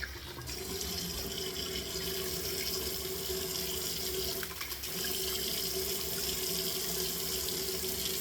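Warm water runs steadily from a sink tap for rinsing after a shave, a continuous close splashing rush that barely changes, with a brief dip around the middle.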